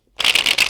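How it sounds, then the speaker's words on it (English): A deck of playing cards is riffled in one quick, close, crisp burst of rapid fluttering after a moment of silence. "I hear the card shuffle"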